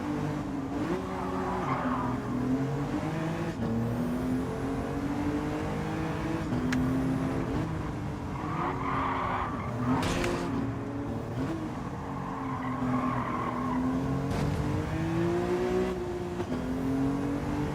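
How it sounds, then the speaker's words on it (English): A BMW M2 Competition races in Gran Turismo 7 with a steady, loud engine drone that rises and falls through gear changes, joined by repeated tire squeals and skids through the corners. "This is the BMW M2 competition, which in itself is a great little car."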